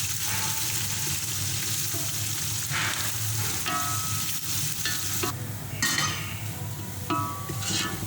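Onions fry in about one and a half cups of oil toward golden brown, a loud, close, continuous sizzle and crackle broken by occasional stirring and light clinks of a utensil against the pot, with no talking.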